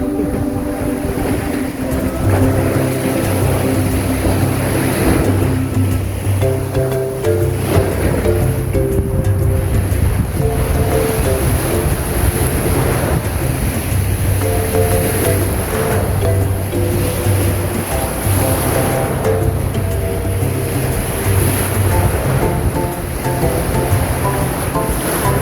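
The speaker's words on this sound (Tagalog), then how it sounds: "Nakinig kayo dyan ang sound ng alon." Ocean waves wash continuously against the shore at a fish port, a loud, steady surf roar with gentle swells in intensity, joined by a low droning hum running underneath much of the time.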